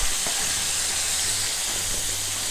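Steady, dense hiss of hot oil sizzling and bubbling in a pan while frying chicken wings, continuous and fairly loud throughout with no voices.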